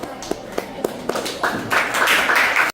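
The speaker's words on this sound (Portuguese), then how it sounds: "Palmas para o Mateus." Students in a classroom clap for a classmate after his presentation. A few separate claps come first, then they build into a short burst of group applause that cuts off abruptly.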